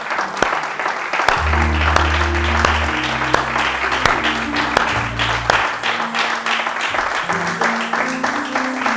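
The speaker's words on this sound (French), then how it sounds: "Est-ce que tu peux acclamer Jésus?" A church congregation claps and cheers for Jesus during a French-language service, a dense, sustained burst of applause with sharp rhythmic claps over sustained musical tones.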